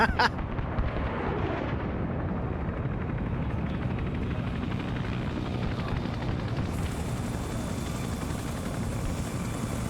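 Airstrikes pound the ground in the video game Arma during a Vietnam-era battle, a sharp blast at the start giving way to a deep, continuous rumble of explosions and aircraft droning, heard at a distance without talk.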